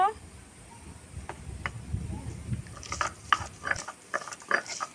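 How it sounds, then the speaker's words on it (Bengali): Garlic cloves being ground into a paste, a rough rhythmic grinding and rasping that grows busier toward the end, with faint background noise. "রসুনগুলো বেটে নেব"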